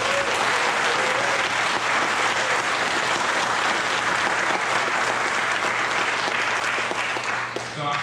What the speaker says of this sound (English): Let's give Gary a round of applause for being here.